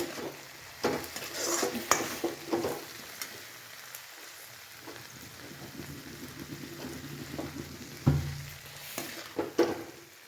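Okra (bhindi) sizzles steadily in a pan as a utensil stirs it and scrapes the pan, with clinks and scraping bursts over a constant frying hiss.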